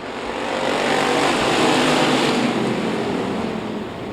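Race cars roaring back up to speed at Kennedale Speedway as the green flag waves, a dense blended engine roar that swells and peaks midway before easing slightly, loud and continuous with no voices.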